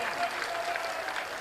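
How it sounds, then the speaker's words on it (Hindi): A crowd at a Hindu unity march gathering claps briefly, a soft, dense patter of applause with a voice audible over it. "गर्व से एक बार बिहार के लोगों के लिए ताली बजानी चाहिए।"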